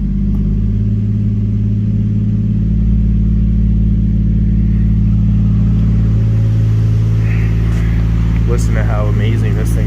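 A Toyota MK3 Supra A70 with a swapped 1JZ-GTE engine idles with a deep, steady rumble, its pitch wavering slightly as it is revved, loud and close, with faint voices briefly audible near the end.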